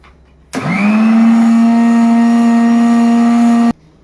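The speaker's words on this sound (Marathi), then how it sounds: "हा रवा आहे ना जरा फिरवून घ्यायचा मिक्सरवर" A mixer grinder grinding semolina switches on abruptly and whirs loudly at a steady high pitch for about three seconds, then cuts off.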